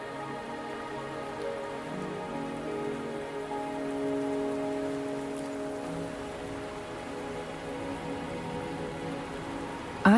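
Steady rain falls and patters on surfaces in Wuthering Waves, an even, continuous wash at moderate loudness with no voices, ending in a brief louder knock.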